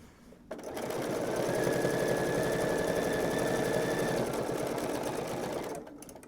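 A sewing machine runs continuously for several seconds while stitching binding onto a quilt, a steady fast mechanical whir and rapid needle chatter that starts and stops cleanly, close and alone.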